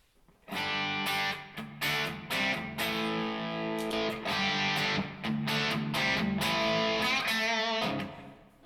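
A clean electric guitar plays sustained chords and notes through a NUX plate reverb pedal, each ringing out into a soft, lingering reverb tail; no talking.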